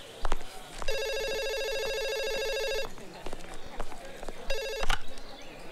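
A telephone rings indoors in two bursts of bright electronic trilling, a long ring and then a short one, with footsteps, movement and people talking around it.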